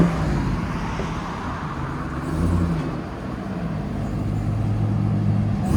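A RAM TRX truck fitted with a Corsa Xtreme exhaust rumbles steadily at a distance, a low broad engine drone that swells slightly near the middle, with no voices.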